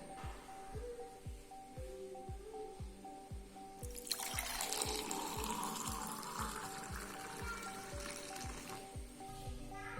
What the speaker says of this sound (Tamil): இப்போ இதை ஒரு சர்விங் கிளாஸில் ட்ரான்ஸ்ஃபர் பண்ணிடலாம்